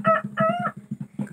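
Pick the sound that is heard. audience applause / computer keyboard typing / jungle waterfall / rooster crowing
rooster crowing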